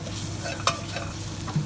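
Curry powder and spices sizzle in a frying pan for chicken curry while being stirred, a close, steady fry with a couple of sharp scrapes from the utensil.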